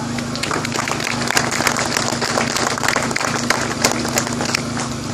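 Outdoor crowd at a Union flag protest in Portadown applauds a Progressive Unionist Party representative, dense steady clapping filling the whole stretch with a faint hum beneath.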